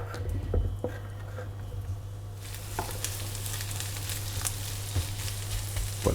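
Andouillette pieces and chopped shallot sizzle in a pan over fairly high heat. The steady, close hiss of frying swells after a couple of seconds, with a few faint clinks and a low hum underneath.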